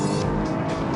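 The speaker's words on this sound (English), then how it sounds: "as I start to brake, rev matching occurs, as you can hear" A Lotus Evora S engine blips and revs under braking as the transmission rev matches, heard close and loud in a continuous one-second burst of engine noise.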